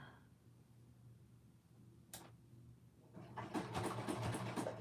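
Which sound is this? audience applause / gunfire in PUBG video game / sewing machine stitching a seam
sewing machine stitching a seam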